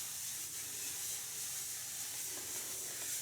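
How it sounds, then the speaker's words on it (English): A spray bottle mists liquid evenly across a silk sheet stretched on a PVC frame for silk painting, giving a steady, close, continuous hiss with no talking. "So I'm just going to go ahead and spray this"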